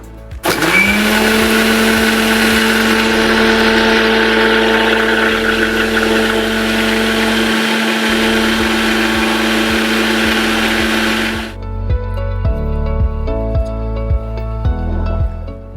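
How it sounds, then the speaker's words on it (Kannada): A mixer grinder blends amla with water in a loud, steady, high whir that runs unbroken for about eleven seconds, then cuts off, leaving quieter kitchen sounds. "ಒಂದು ಅರ್ಧದಿಂದ ಮುಕ್ಕಾಲು ಗ್ಲಾಸ್ ನೀರು ಹಾಕಿ ಮತ್ತೆ ಮಿಕ್ಸಿ ಮಾಡೋಣ"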